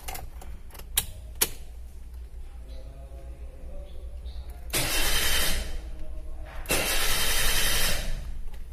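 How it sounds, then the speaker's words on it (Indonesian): A car engine cranking on the starter after a starter relay was fitted, two sustained whirring cranking bursts of a few seconds each that fail to catch, preceded by clicks and quiet handling noises. "Ternyata mobil bisa di starter, tapi belum dapat hidup"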